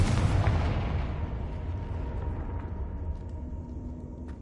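A Confringo spell explosion in the video game Hogwarts Legacy, a loud booming blast at the start that fades into a long rumbling decay, with no speech.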